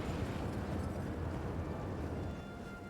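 Nuclear bomb explosions in Hearts of Iron IV, a deep, continuous rumbling roar with heavy low-end weight that stays loud and steady for nearly three seconds before tapering slightly at the end.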